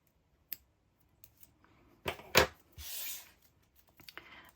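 Scissors snip through the end of a lipstick keychain cord, giving a couple of sharp close cuts followed by a short rustling tear, with faint handling clicks around them in a quiet room.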